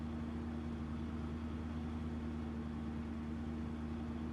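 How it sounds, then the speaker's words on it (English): A truck engine in Farming Simulator 2015 on Xbox One drones steadily as the vehicle drives, a low, even hum with a constant tone and no pauses or talk. "This truck makes it pretty easy to get around."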